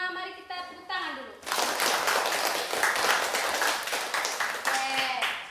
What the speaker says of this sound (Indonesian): Untuk kalian semua, mari kita tepuk tangan dulu.